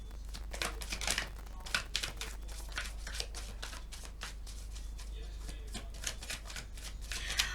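Tarot cards shuffled by hand in repeated riffling bursts, crisp close papery flutters coming every second or so against a low steady hum.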